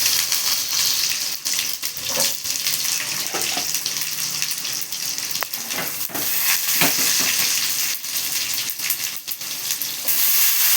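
Mustard seeds, fennel and small sambar shallots fry in hot oil in a pan, a loud continuous hiss with scattered pops and crackles, no voices.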